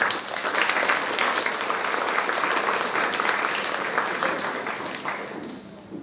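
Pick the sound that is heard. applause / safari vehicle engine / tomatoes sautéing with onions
applause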